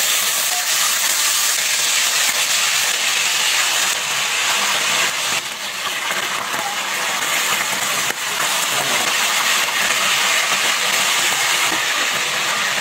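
Marinated, seasoned chicken frying in hot oil, a loud continuous sizzling hiss close up, steady throughout with slight dips, no voices.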